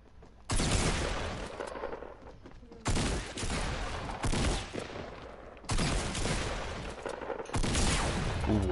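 Loud bursts of shotgun fire in a PS4 shooter game, four separate blasts spaced a couple of seconds apart, each a sharp crack followed by a long, noisy ringing tail.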